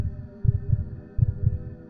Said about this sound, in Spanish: Pero los latidos iban siendo aún más fuertes.